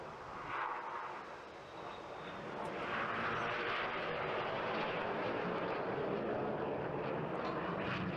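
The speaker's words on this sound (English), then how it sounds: "each aircraft now turn hard away from the display line, pulling hard back towards the centre of the beach area" Red Arrows jets at the Bournemouth Air Festival 2023 turning hard over the beach display line, a continuous distant jet roar that swells and holds loud and steady.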